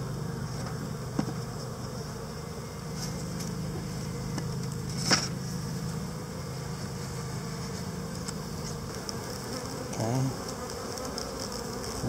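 A low steady drone of many honey bees buzzing close by over open hive brood chambers, continuous throughout, with a few faint knocks and rustles over it.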